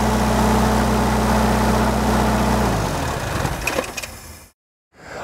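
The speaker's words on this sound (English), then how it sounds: "I'm gonna go ahead and idle the engine down." A diesel engine idles on a SealMaster CP125 crack sealing machine, a loud steady low drone that winds down and stops after about three seconds, followed by a few clanks and then brief silence.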